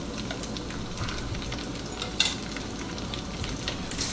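Eggs hit a pan of frying chorizo and sizzle steadily, a dense constant crackle close by, with a brief spatula scrape or tap partway through and no talk.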